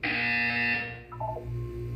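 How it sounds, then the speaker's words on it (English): Buzzer in the Portal 2 video game, one loud, harsh electronic tone held for about a second, followed by a lower, softer tonal sequence. "You will hear a buzzer."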